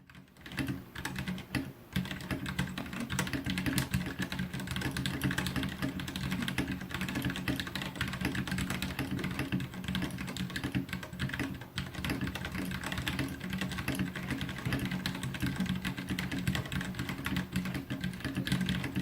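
Steady, fast typing on a Vortex Vibe aluminum 60% keyboard with numpad and light Cherry MX Red switches, a continuous close patter of soft clacks with frequent bottoming out, heard alone.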